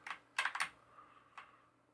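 Quick bursts of keystrokes on a computer keyboard, a few close clicks clustered together, then a pause and one last tap, quiet and alone.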